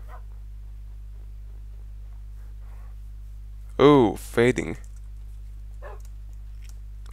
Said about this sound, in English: Oh, more dogs.